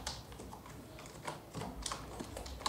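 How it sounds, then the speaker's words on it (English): Someone typing on a computer keyboard while writing in Microsoft Word, a steady run of light, quick key clicks at close range with no voices. "For example, I type"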